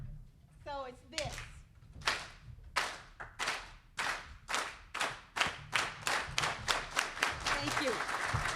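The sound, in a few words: farm worker clap, rhythmic group clapping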